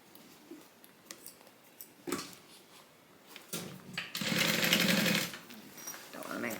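Sewing machine stitching a bag divider, lining and outer fabric together in a short loud run of steady buzzing, with brief machine sounds and a voice talking before and after.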